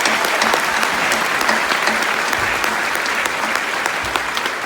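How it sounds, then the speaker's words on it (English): Loud, steady applause from a large crowd at a 2022 high school graduation ceremony, dense clapping filling the whole stretch without a break. "Please join me in giving them another huge round of applause."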